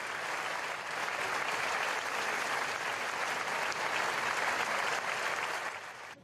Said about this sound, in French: Puis de longs applaudissements.